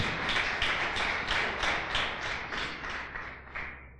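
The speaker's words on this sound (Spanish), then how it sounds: "Dale un fuerte aplauso al Señor." A church congregation applauds steadily, a dense wash of many hands clapping at moderate distance that gradually fades.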